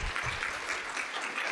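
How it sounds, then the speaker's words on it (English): An audience at a machine learning for health conference gives a panel a brief, steady round of applause, dense clapping from a roomful of people. "maybe we can give them a round of applause again."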